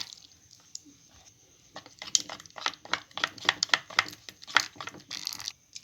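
Gram flour batter for bread pakoda being stirred as water is added, giving soft wet squishing and slapping strokes in an irregular run, close and fairly quiet, quickening in the second half with no talk.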